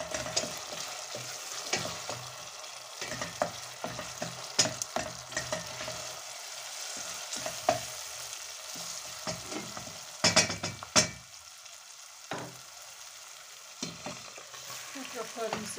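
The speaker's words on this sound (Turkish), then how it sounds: "Böylece salçamızı da kavuralım." Tomato paste fries in a pan while being stirred, with a soft steady sizzle broken by repeated close scraping and clacking strokes of the spoon, some sharper bursts near the end.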